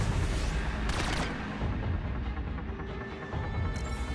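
Automatic turret gunfire in the sci-fi shooter Mass Effect 3, a steady dense clatter of shots running the whole time with a couple of sharper bursts, loud and close, no talking.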